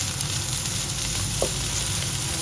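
Tender boiled octopus is sautéed for adobo in a hot pan, giving a brief, close, steady sizzle with a faint stir.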